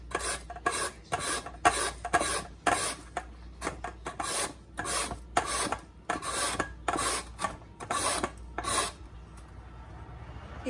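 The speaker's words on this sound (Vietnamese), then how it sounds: "Bây giờ mình lấy đầu bào á, mình bào nó ra." Half-peeled green mango rasped against a hand grater for a Vietnamese green mango salad, steady rhythmic scraping strokes, close and loud, about fifteen quick passes before stopping.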